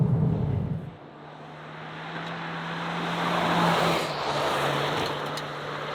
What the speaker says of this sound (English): We go for a little fang around the ride and handling track now.